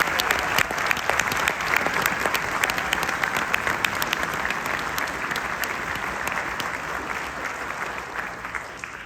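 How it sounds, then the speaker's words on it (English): An audience at a wind ensemble concert claps steadily for several seconds, dense and sustained applause filling the room. "If we could give Casey another round of applause, please."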